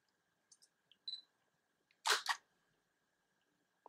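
A Fujifilm mirrorless camera fires its shutter at 1/4000 second with a Godox flash attached. A few faint clicks lead into one loud double-snap near the middle, and the rest is quiet with no talk.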